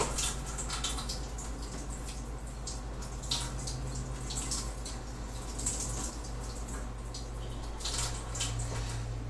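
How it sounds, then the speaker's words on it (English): Cold tap water runs steadily over a heated pipe being shaped into a short bow, a continuous close splashing hiss with a low hum beneath and occasional brighter spatters. "I'm going to run it under cold water and then I'll show you."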